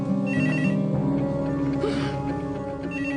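A telephone rings with a repeating electronic tone pattern, clear and close, with a faint voice briefly overlapping near the middle.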